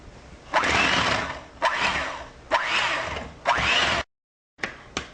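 Whipping cream with sugar and vanilla essence being beaten by an electric whisk, several loud sustained whirring bursts separated by short pauses, close and without talk.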